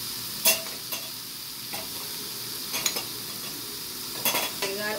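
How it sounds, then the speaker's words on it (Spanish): Empanada filling sauce being stirred in a pan, with repeated light scrapes and clinks of a utensil against the metal over a faint steady sizzle, close and without speech. "Seguimos mezclando."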